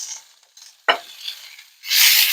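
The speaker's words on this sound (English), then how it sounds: "You hear them how they sizzle and pop?" Brussels sprouts dropped into a smoking-hot skillet, with a sharp hiss at the moment they land, a quieter spell, then a loud, steady sizzle of frying.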